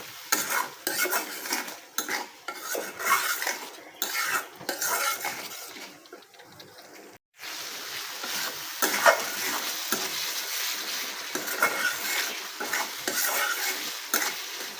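Spice masala with cumin powder and a little water frying in a pan, sizzling steadily while a utensil scrapes and clatters against the pan in repeated stirring strokes, close and fairly loud, with no talk.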